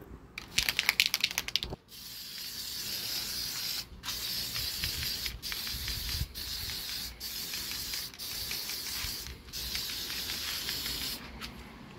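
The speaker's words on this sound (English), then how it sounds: "this thing's spraying weird" Aerosol can hissing in a series of bursts separated by brief pauses, close and fairly loud, preceded by a short rattling shake.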